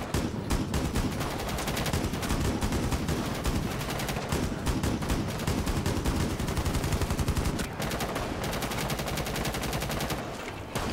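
Dense, continuous automatic gunfire in a zombie outbreak shooter, rapid rattling bursts packed together for the full length with only a brief dip near the end, loud and close.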